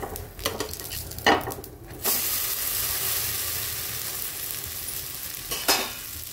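Jowar flour and semolina breakfast sizzles and fries in an oiled pan, with a few scraping stir sounds and a flip near the start, then a steady close hiss of frying.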